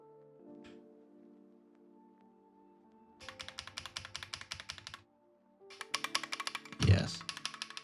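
A modded Wooting 60HE+ keyboard rattles under two quick bursts of typing, its keystrokes sharp and metallic, close by with a quiet background tone between.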